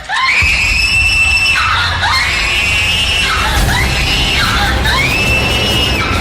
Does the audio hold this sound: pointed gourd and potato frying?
no